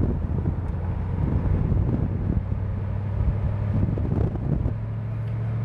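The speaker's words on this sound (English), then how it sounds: "I doubt you can hear it with all the wind noise from the convertible top" Steady, loud buffeting wind rumble over a low road and engine drone inside a moving 1989 Ford Mustang LX 5.0L convertible with the top open, continuous and close throughout.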